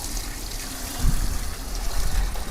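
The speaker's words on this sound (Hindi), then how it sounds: "देखो ऐसा पानी डाल दिया" Water pours into a small portable washing machine, a continuous rushing, splashing stream, loud and close, with no talk.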